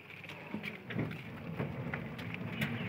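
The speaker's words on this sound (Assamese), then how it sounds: "এইয়া পানী পৰি আছে ঘটি দি চৌ চৌ চৌ চৌ কৰি" Water pouring from a pot and a conch shell during Saraswati Puja, splashing and trickling steadily, with scattered drips and louder splashes landing at irregular moments, moderately close.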